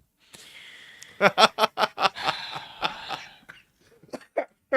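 A rapid fit of harsh coughing, about a dozen quick bursts in a row, then a few more scattered coughs after a pause.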